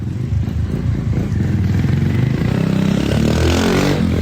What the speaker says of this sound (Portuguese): Agora veio outra moto aqui.